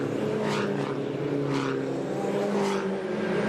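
Mini Challenge race cars at the Gold Coast street circuit roar past, engines rising and falling in pitch as several cars pass in quick succession at moderate distance under a steady wash of race noise.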